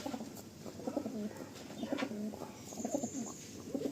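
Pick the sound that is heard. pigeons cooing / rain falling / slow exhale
pigeons cooing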